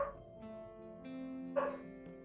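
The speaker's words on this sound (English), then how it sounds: "I'm pretty sure you guys can hear the dog barking in the background." A dog barks and whimpers faintly in the background of an indoor room during a game of Wingspan, with a couple of short yips over a steady hum.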